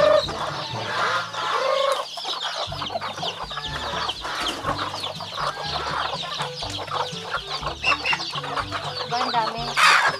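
A flock of farm chickens clucking busily and continuously up close in the rural Philippines, with a rooster's crow breaking through near the end.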